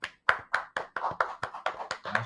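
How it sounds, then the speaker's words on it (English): A studio audience claps to welcome a guest onto a show, about nine sharp, evenly spaced hand claps in a brisk rhythm, close and fairly quiet. "Let's give her a round of applause and welcome her to the show."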